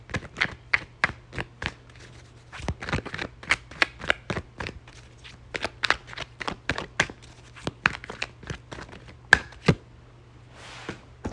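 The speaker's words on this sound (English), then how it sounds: "I'm going to pull one more card for that." Tarot cards are shuffled by hand up close in a quiet room, a long run of quick irregular riffling snaps and taps with short pauses between bursts, no talking.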